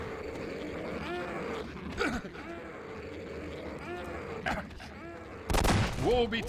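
Gunshots in Half-Life 2, mixed with groaning, grunting creature sounds; a few scattered shots land early, then a loud blast near the end, with growls and voices running underneath.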